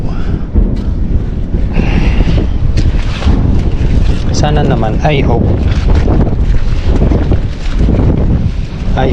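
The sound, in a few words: strong wind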